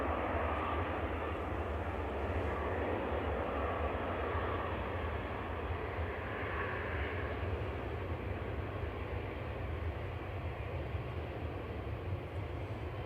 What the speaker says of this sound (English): Eurowings is taking a long time to taxi down.